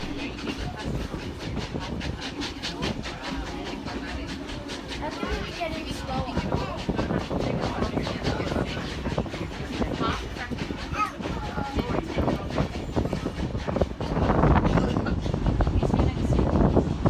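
Train carriage on a New South Wales line near Buxton, heard from inside on its final daily run without assistance: steady rumble with rhythmic wheel clicks, growing louder toward the end, with some wind buffeting.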